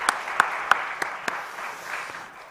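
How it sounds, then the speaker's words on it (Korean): A church congregation claps together during a Korean Christmas Day Sunday worship service, a steady patter of applause that fades out over a couple of seconds. "우리 위로의 박수 한번 드릴까요?"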